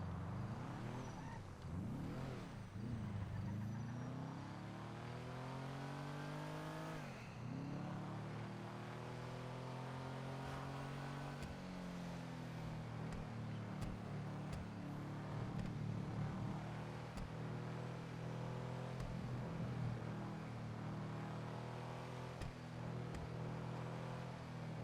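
A customer's car driven slowly and carefully in Grand Theft Auto Online, its engine humming steadily with rising and falling revs and gear-shift sweeps, continuous and fairly close, no voices.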